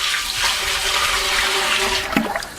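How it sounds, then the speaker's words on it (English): Water poured into a concrete countertop mix for a bathroom vanity, a continuous close rushing pour lasting a couple of seconds before tapering off with a few splashes. "Everybody was saying to throw a little bit of water in,"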